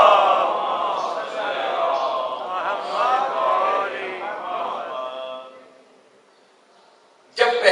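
Congregation at a Shia majlis memorial gathering loudly chanting salawat in unison, a sustained swell of voices for several seconds that trails off into quiet before a sharp burst at the end.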